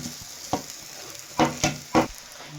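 Lightly mashed potatoes are stirred into fried masala in a hot pan, giving a soft steady sizzle broken by three or four sharp scraping stirs close by.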